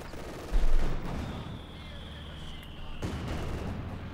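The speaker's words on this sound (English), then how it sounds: "Bombardment beginning" Artillery bombardment in Company of Heroes 2: a heavy thump early on, then a continuous rumble of distant shelling and gunfire with a faint whine, over steady battle ambience.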